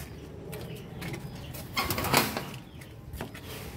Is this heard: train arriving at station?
no